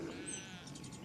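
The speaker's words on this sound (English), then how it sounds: "Can you hear them sheep?" Sheep bleating somewhere in an open UK field on a still day: a faint, distant wavering bleat, soft and thin beneath a low ambient background.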